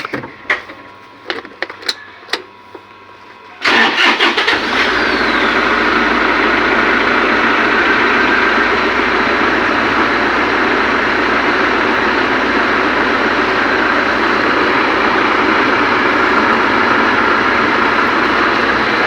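A modified jeep engine cranks with a few sharp clicks, then fires up and settles into a loud, steady idle that runs unbroken for the rest of the clip, close by and with no talking over it.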